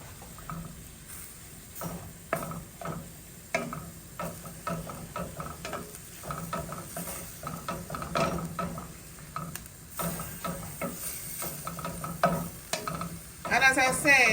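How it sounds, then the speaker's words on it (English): Ground beef and chopped cilantro are stirred together in a pan, with a quiet, continuous sizzle broken by repeated scraping and clinking strokes of the utensil. "I'm going to add some cilantro to the ground beef. And I'm going to stir all of that together."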